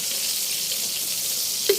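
Steady sizzling hiss of small-cut river fish frying in a hot pan, continuous and close, with a brief clink near the end.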